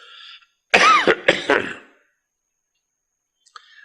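A single harsh cough with a throaty rasp, close and loud, following brief speech and then a pause.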